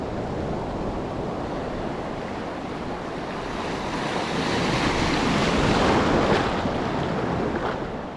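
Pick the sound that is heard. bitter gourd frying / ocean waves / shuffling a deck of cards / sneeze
ocean waves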